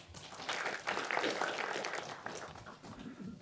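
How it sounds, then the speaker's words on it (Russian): A seated audience at the opening of a scientific readings event claps warmly, a dense, steady applause that swells and then slowly thins out, with a voice faintly audible near the end. "Еще раз похлопаем."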